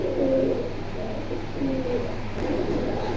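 Soft, low coos of pigeons for sale in Kalindi, Keraniganj, Dhaka, repeat in a few short phrases over steady background hum, with no talking.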